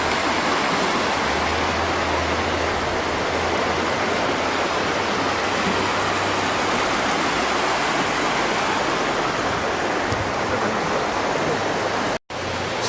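The river rushing down the canyon in Zion National Park makes a continuous, loud roar of turbulent water, steady and unbroken for the whole stretch until a brief dropout near the end.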